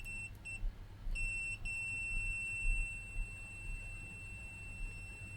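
Continuity beeps from a GochiFix 3-in-1 handheld oscilloscope multimeter: a few short, sharp tones near the start, then one steady high tone that holds for several seconds over a quiet, low background hum.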